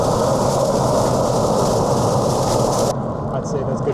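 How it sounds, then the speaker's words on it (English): A dryer vent cleaning blower roars at full speed outside at an exterior wall vent, a loud, steady broadband rush that drops slightly in level near the end. "I'm gonna turn my blower up all the way"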